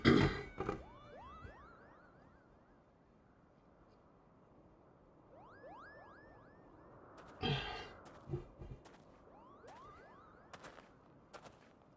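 Moogle flying in a video game: repeated chirpy rising whistles in short bursts, separated by a few sharp percussive hits, fairly faint against a quiet background with no talk.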